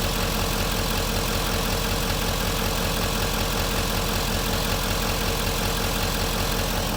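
An LML Duramax diesel engine idles with a steady, even rumble and fine rhythmic clatter, loud and close, holding a constant level throughout with no voices.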